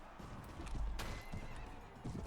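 A horse in the video game Mount and Blade: Warband gives a short, clear neigh. It is backed by faint hoof clip-clops and battle noise.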